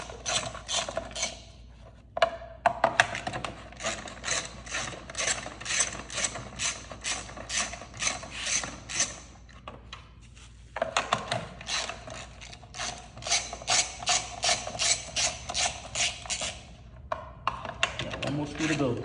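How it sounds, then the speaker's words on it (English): A socket wrench with an 8mm socket ratchets out the screws on a minibike clutch cover, rapid clicking runs repeating in bursts with short pauses, close up, with someone talking at times. "we're gonna take the 8mm and we're just gonna loosen, take all those screws out, all those 4 screws"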